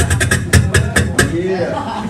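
Beatboxer's mouth imitation of closed hi-hats during a solo beatbox show, a run of about seven short, crisp ticking hits in an uneven rhythm, close and fairly loud, with no talking over them.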